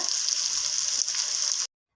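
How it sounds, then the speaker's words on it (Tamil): Dried fish frying in oil on a dosa pan, a loud steady sizzle and crackle that holds evenly, then cuts off abruptly near the end. "காய வச்சுட்டு கொஞ்சம் எண்ணெய் ஊற்றிட்டு நம்ம கருவாடு போட்டுடலாம்"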